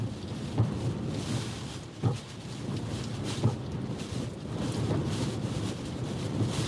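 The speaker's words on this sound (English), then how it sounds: "Now we're looking at some wind." Hurricane Isaias winds during landfall near Wilmington, North Carolina: a steady, fairly quiet broadband rush with a few brief gusting thumps against the microphone, and no voices.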